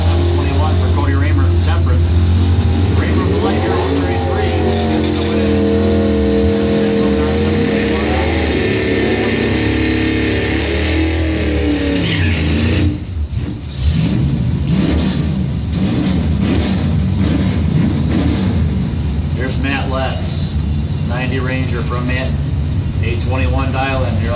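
Top doorslammer drag race cars, including an '86 Mustang, rev and accelerate at a drag strip, their engines droning under a continuous announcer's voice, with a broader roar of launching cars swelling in the second half.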